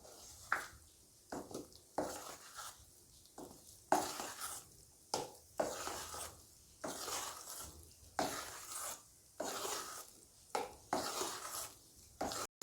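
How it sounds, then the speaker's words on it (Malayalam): Caramelized sugar is stirred into plum cake batter in a bowl, giving repeated soft scraping and thudding strokes in an uneven rhythm, close and quiet with no talk. "നമ്മൾ കാരമലൈസ് ചെയ്ത പഞ്ചസാര കുറച്ച് ഒഴിച്ചു കൊടുത്ത് അതുകൂടെ ഒന്ന് മിക്സ് ചെയ്യുക."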